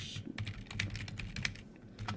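Keys clatter on a computer keyboard in a quick, irregular burst of close, soft clicks and taps, typed alone at low volume with no one talking.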